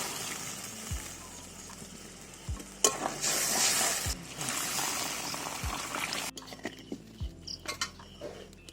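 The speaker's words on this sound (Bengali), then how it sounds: "দিয়ে দেবো জল।" Water hits the hot mustard and oil in a pan of hilsa fish curry with eggplant. It gives a loud hissing rush of sizzle, followed by quieter bubbling and repeated soft thuds of a spoon stirring the pan.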